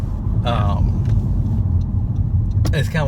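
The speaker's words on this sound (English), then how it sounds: "there is more road noise, but not a lot more" Road noise inside a 2017 Honda Civic Hatchback on the move, a steady low tire and engine rumble filling the cabin while people talk briefly over it.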